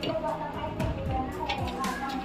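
Several people chatter and talk over one another outdoors at a family gathering where a village-style chicken dish is being cooked, voices fairly close and continuous.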